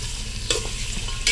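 Cinnamon and cardamom fry in a mix of oil and ghee, a steady close sizzle broken by a couple of brief scraping stirs.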